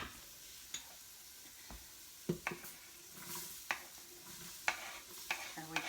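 Diced onion sizzles as it hits hot roux in a pressure cooker pot for gumbo, a soft steady fry broken by intermittent stirring scrapes and clinks close up.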